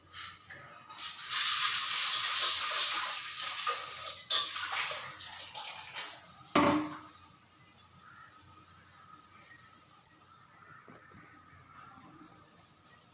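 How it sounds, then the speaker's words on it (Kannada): A cup of lentils being washed in water gives several seconds of close sloshing and swirling, then quieter drips, a dull clunk and light clinks from a kitchen vessel. "ಒಂದು ಕಪ್ಪಷ್ಟು ಬೇಳೆ ತೊಗೊಂಡು ಚೆನ್ನಾಗಿ ವಾಶ್ ಮಾಡ್ಕೋಬೇಕು"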